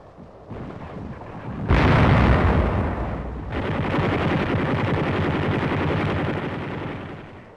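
A 57mm gun fires in 1944 combat at a 17th-century fortification, two heavy booming blasts a couple of seconds apart, each leaving a long rumbling roar that fills the rest of the clip, with no voices.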